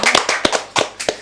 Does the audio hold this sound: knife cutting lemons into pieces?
no